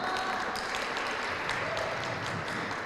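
Applause from an audience at a Senate forum on legislative harmonization with a gender perspective, a steady broadband wash of clapping that holds at a constant level throughout, with no talk over it.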